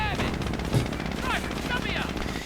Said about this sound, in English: Panzergrenadiers shots flying.